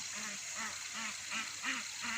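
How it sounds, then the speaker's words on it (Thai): Ducks in a garden with water being let in quack faintly but repeatedly in a steady series of short calls, heard at a distance over a constant hiss. "เป็ดเป็ดก็เห็นน้ำละ เห็นปล่อยน้ำแล้วจะมาละ ยินเสียงเป็ด"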